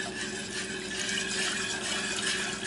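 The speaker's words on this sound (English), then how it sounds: "I'm going to pour the milk into this pot" Milk pours steadily into a pot on a high flame, a continuous soft liquid rush with a faint background hum.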